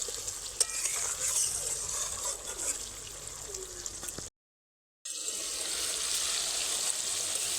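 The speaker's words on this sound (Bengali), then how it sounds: "আবারও কিন্তু নাড়তে থাকবো।" Sweet-sour mango pickle being stirred in a pan as the sugar melts, a steady close scraping and soft sizzling that runs throughout, broken by a short gap of silence midway before it resumes.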